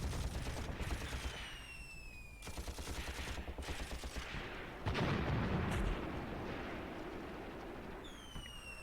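Gunfire and artillery in the WWII tactics video game Graviteam Tactics, heard from a distance: steady bursts of machine-gun fire with a heavier boom midway and high whistling sweeps over them, and no voices.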